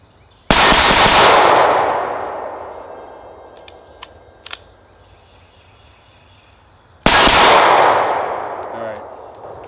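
Two sharp, loud M17 pistol shots ring out about six seconds apart, each with a long decaying echo, separated by quiet background with faint clinks.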